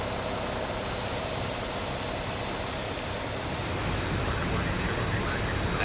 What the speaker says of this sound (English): Good start engine number 2